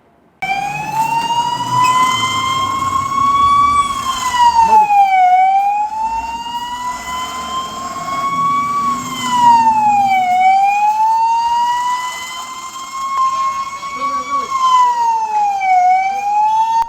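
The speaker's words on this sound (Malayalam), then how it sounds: "സിവിൽ ഡിഫൻസ് മോക് ഡ്രില്ലിന്റെ ഭാഗമായി കുണ്ടറയിൽ സൈറൺ അലർട്ട് നടത്തി" A loud civil defense mock drill siren in Kundara wails steadily, its pitch rising and falling in long repeating sweeps over faint background noise.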